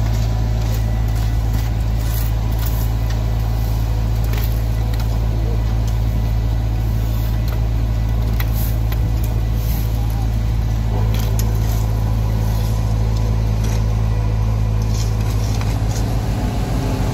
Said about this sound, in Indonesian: Mesin penggilas ini tentu saja bergerak setelah aspal pavers sudah mengeluarkan aspal dan meratakan aspal ini.